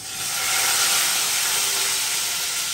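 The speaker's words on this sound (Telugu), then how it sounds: "ఇప్పుడు నూనె మరుగుతుంది కదా, పచ్చిమిరపకాయలు వేసుకోండి" A loud, continuous sizzling hiss of green chillies frying in hot oil, steady throughout with no talking.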